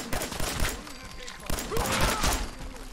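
Rapid gunfire bursts in the virtual reality game Fallout 4 VR, several loud volleys spread across a few seconds and mixed with game noise and distant voices.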